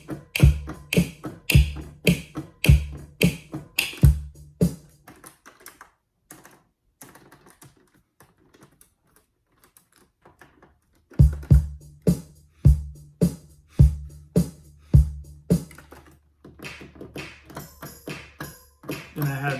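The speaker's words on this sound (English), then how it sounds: "So yeah, I started with some drums. Made a really simple pattern." Simple swung drum pattern programmed on an ASR sampler, sharp kick and snare hits repeating in a steady loose groove, dropping out for a few seconds midway and then returning, with no talking.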